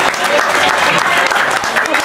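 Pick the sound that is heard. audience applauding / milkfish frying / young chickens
audience applauding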